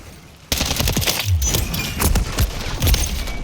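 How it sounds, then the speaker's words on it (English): Call of Duty: Modern Warfare 3 gunfire erupts abruptly after a quiet moment, a dense, loud barrage of overlapping shots and impacts that continues without a break, with no voices. "We get shot in our back."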